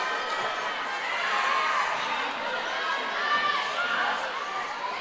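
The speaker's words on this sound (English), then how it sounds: "That crowd's starting to make a little bit more noise." A gym crowd at a women's college volleyball match, Lynchburg Hornets against Bridgewater Eagles, gives a sustained, swelling roar and murmur that holds steady throughout, with a voice talking over it.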